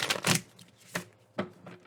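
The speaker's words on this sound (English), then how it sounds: "I didn't see it that time when I shuffled it" Several quick riffling bursts of cards being shuffled, close and fairly quiet, with short pauses between the flurries.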